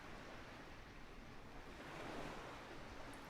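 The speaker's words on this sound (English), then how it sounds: "you're just out here in a plane off the coast, just listening to the water" Ocean water off the coast of Sardinia in Microsoft Flight Simulator, a continuous wash of surf and wind noise, steady and broad with a slight swell partway through, no voices.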